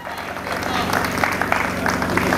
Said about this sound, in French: Applaudissez pour les bébés.